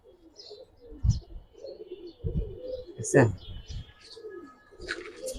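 Giribaz pigeons coo in low, throaty bursts at close range, with a few higher chirps mixed in while someone talks over them.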